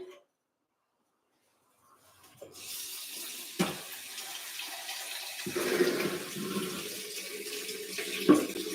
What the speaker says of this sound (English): I'm going to go ahead and drain them.